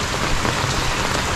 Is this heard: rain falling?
yes